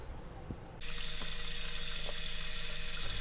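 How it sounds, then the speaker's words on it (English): A faucet in an RV opens and runs steadily, a bright hissing rush of water flowing through freshwater lines being flushed with bleach solution, starting abruptly after a quiet moment with faint knocks. "we're going to let this run till we smell bleach at every faucet"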